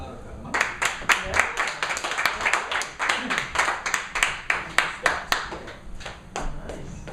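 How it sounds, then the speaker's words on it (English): An audience at a poetry open mic salon bursts into steady, lively clapping from a small crowd, close and fairly loud, with a few voices mixed in before it thins toward the end. "Let us have another round of applause for Scott."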